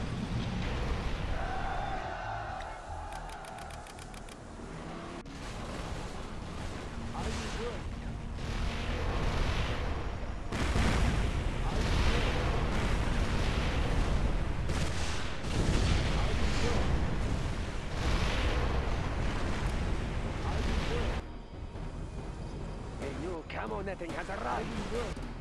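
Scudstone missile launches and explosions in a C&C Generals mod, a sustained dense roar of blasts and booms with repeated surges, loud and continuous with voice lines from the game over it.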